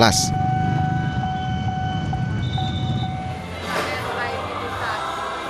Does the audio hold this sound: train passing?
yes